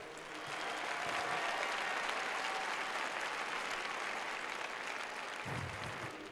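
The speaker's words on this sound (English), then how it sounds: "Give him a big round of applause if you would." An audience at the Bands of America Grand Nationals Finals breaks into a steady round of applause that lasts several seconds, a dense, even wash of clapping heard at a moderate distance with no talk over it.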